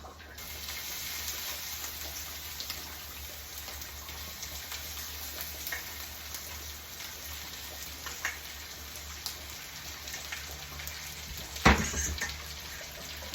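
Shrimp sizzling in a hot cast iron pan with a steady frying hiss, a few faint clinks, and one sharp clatter near the end.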